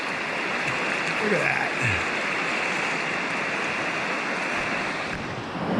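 River water rushes steadily and loudly around a hiker wading through The Narrows in Zion National Park, a continuous close wash with someone briefly speaking over it.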